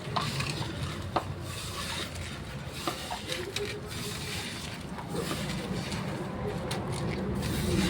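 Green chillies, curry leaves and salt being stirred together for methi pakodi, with continuous scraping and mixing close up under a steady, dense background hiss.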